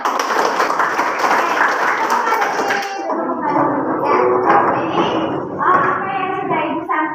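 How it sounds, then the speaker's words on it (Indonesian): A school class clapping their hands in rhythmic patterns, loud, brisk bursts that break into shorter groups, with a teacher talking over and between them. "Ya, tepuk tangan."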